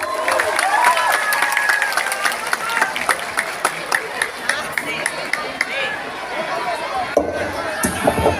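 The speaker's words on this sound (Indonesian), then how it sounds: "Tepuk tangannya dulu dong." Audience applause at an Islamic boarding school Tabligh Akbar education festival, dense clapping from a large crowd that rolls on for several seconds before thinning out into scattered claps.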